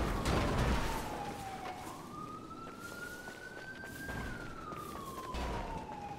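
Police car sirens wail continuously in the Marbella Vice 2 video game, a steady rising and falling tone that stays loud and near over a busy game soundscape, with no voices.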